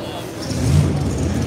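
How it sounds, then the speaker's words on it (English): A steady low car engine rumble that swells slightly, heard nearby with a broad roaring tone. "I hear cars cranking back up"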